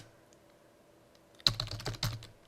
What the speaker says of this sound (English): I'm going to type in rush